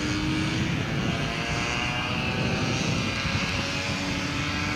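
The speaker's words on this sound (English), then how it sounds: "Very scale-like takeoff, just like the full-size one of those." Model airplane taxiing and taking off, its engine giving a steady, loud buzzing drone with a faint whining tone throughout, and no voices.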